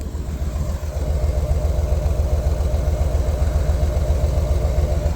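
Deep, even idle of a 1999 Chevy Suburban 2500's 454 big block through its factory muffler, a steady low pulsing rumble up close with a slight dip near the start and no voices.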